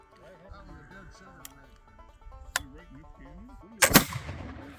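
A flintlock rifle fired outdoors among Montana pines in November, a single loud close blast with a brief crackle, preceded by quieter sharp clicks while people talk faintly.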